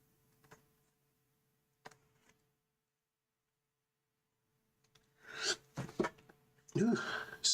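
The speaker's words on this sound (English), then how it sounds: "That was a sneeze." A person sneezes near the end after a long hush broken only by faint ticks, with a sudden breathy burst followed by a second noisy exhale, close and fairly loud.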